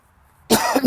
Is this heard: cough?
yes